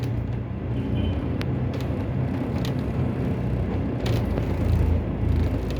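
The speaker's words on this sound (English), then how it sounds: "I've got to help my driver get the bus back into Wandsworth Garage" A London Routemaster bus, RM 1941, pulls into Wandsworth Bus Garage, a former tram depot, with a steady, close diesel rumble heard from onboard and faint clanks and hisses above it.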